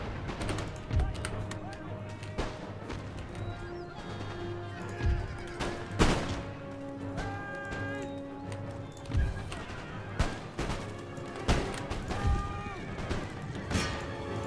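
Artillery and musket fire in the video game Empire: Total War, sharp loud booms and cracks at irregular intervals over battlefield noise with horses clip-clopping, while someone talks over it.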